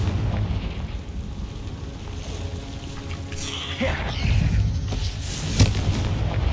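Confringo blasting-curse explosions in the Hogwarts Legacy game, heard as loud booming bursts with rumbling, crackling tails and a sharp pop near the end over a constant background din, with no talking.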